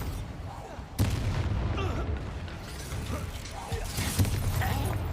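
Spell blasts from the Bombarda explosion spell in Hogwarts Legacy, with booming impacts near 1 s and 4.2 s over a continuous rumbling game soundscape.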